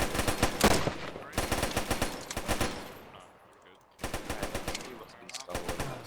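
Soldiers of an armoured division fire on a desert training exercise in Tunisia, with loud close bursts of rapid automatic gunfire separated by a brief lull and a shout in the background.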